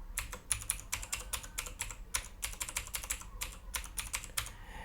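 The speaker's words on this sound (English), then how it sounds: "So here type accounts.google.com." Quick bursts of keystrokes clatter on a computer keyboard as a web address is typed, close and fairly quiet, in uneven rapid clusters with no voices.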